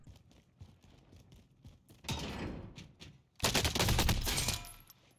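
Pistol gunfire in the Overwatch video game, two dense bursts of rapid shots, the second louder, following a stretch of quieter clicks and mechanical game sounds.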